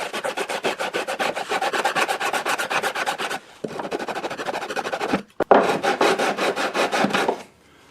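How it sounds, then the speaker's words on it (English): Rhythmic sanding strokes on the wooden arm bevel of a baritone guitar being built, a fast, even rasping back and forth, close and loud, with a short pause midway before it resumes and then stops. "until I sand inward enough that I'm just touching the red line, the inside line of the purfling"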